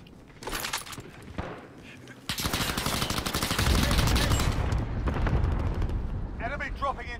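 Hostile gunfire crackles in a shooter video game, with sharp bursts and sustained rapid shots, some loud and dense, some more distant, and voices talking over the fighting.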